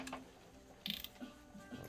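Ratchet working loose the thermostat housing bolts on a Chevy Tahoe LTZ with the 5.3L engine, giving a short burst of close clicking followed by a few lighter, separate clicks.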